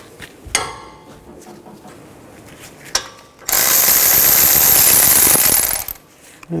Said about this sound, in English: Take these two bolts out for the caliper bracket.